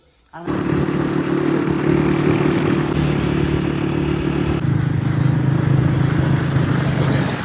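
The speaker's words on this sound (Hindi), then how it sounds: "गाड़ी निकालते हैं जी और चलते हैं शहर" A car is driven out of a village home and onto the road. The engine starts with a sudden loud onset, then holds a steady, close rumble and roar that shifts slightly in pitch partway through.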